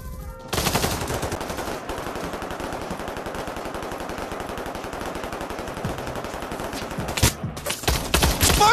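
Sustained automatic gunfire from a game of Pavlov VR, a long, rapid, loud burst of shots close up, followed by a few scattered shots near the end.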